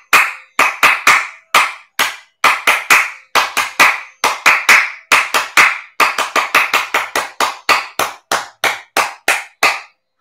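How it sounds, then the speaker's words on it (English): Two hands clap hard during a lying-down yoga session, a long run of loud, sharp claps in close, fairly regular bursts with short pauses between groups. "Now we are going to clap hard so our pressure points get activated."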